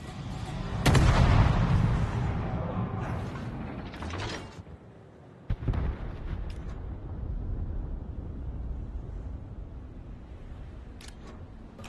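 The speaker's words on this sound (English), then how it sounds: "Throwing a smoke bomb." A smoke grenade is thrown in a competitive first-person shooter: a loud burst and whooshing hiss at the start, then a second sharp pop midway, followed by a sustained mechanical rumble that fades slowly.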